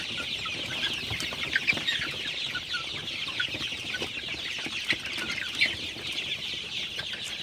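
A flock of Sonali super hybrid chickens on a farm clucks and murmurs steadily while drinking water at night. The soft, dense chatter continues throughout with no voices.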